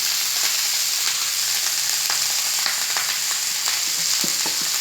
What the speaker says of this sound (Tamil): இந்த மல்லியும் நல்லா வதங்கணும்.